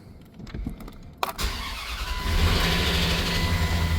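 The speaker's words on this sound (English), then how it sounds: "I had to just start the truck and see what would happen." A pickup truck engine with a broken spark plug porcelain in a cylinder cranks briefly, catches with a sharp start, and settles into a steady, loud idle.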